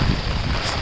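Strong wind buffets the microphone outdoors near a flooded road, a loud, continuous roar of rushing air with no pauses.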